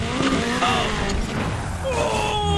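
Tires squealing as a Nissan 180SX drifts in the racing game NFS Heat, a loud continuous screech over steady engine roar that shifts pitch throughout.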